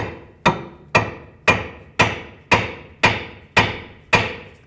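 Nine sharp hammer blows strike an aluminum steering knuckle on a Chevrolet Equinox, evenly spaced about half a second apart, each loud close metallic hit ringing briefly before the next.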